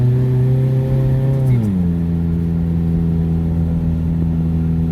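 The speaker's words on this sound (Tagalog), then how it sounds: "Sinubukan lang namin ang power ng kanyang sasakyan." A car engine drones loudly as it climbs a steep road between Balamban and Cebu City, its steady pitch dropping once at a gear change and then holding a lower hum.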